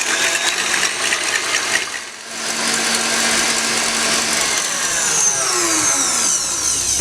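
Egg whites with cream of tartar being whisked toward soft peaks, a fast, continuous whirring mixer sound with shifting pitch and no talk.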